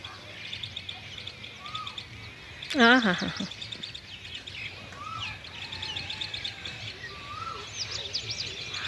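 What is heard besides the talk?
small birds chirping on a wire in the morning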